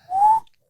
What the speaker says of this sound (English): Yeah, that's a serious whistle.